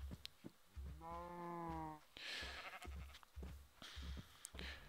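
A sheep in the Minecraft video game lets out one clear, drawn-out bleat, surrounded by soft in-game footsteps and faint clicks.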